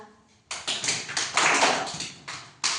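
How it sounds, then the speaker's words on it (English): Children in a class clap their hands in a short series of sharp, irregular claps, some overlapping into quick bursts, close and fairly loud after a quiet start. "We clap our hands."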